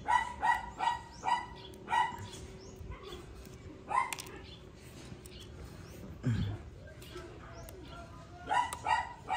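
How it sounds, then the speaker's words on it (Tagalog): Several dogs at home bark in repeated short bursts, some sharp yips close by, scattered through the scene over background clatter while someone works on replacing the battery in a Redmi K40 phone. "Ingay ng mga aso namin dito guys."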